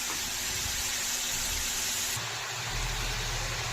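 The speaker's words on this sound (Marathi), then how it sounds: "तुपामध्ये पूर्ण 5 मिनिटं आपण गाजर परतून घेऊया" Carrots sautéing in ghee for gajar halwa, a steady close hiss and sizzle with a low rumble that runs unbroken through the clip.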